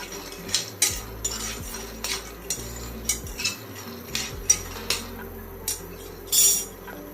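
Peanuts dry-roasting in a pan, stirred steadily with a metal spoon that scrapes and clinks against the pan every half second or so, with a low steady hum behind the close, rattling strokes.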